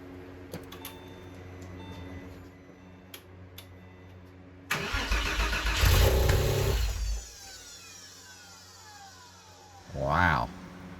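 Porsche 911 Carrera with an M96 flat-six, just rebuilt, cranks after a few quiet clicks, catches and runs loudly for about two seconds before settling into a lumpy idle, then gives one short rev near the end.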